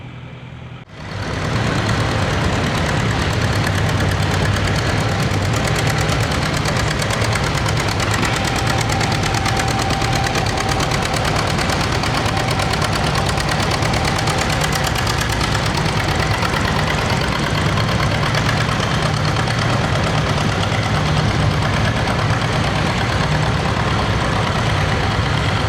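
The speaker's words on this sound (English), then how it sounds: "this is just kind of like a little fun pull they do for the antique tractors on Thursday nights." Antique tractor engines run at a Thursday-night fun tractor pull at an agricultural show in Perry, Georgia, a loud, continuous, rough rumbling with rapid knocking pulses, steady and unbroken.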